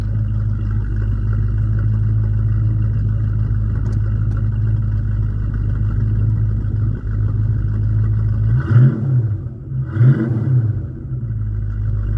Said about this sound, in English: let's just give it a quick little rev here to show you guys just how it sounds.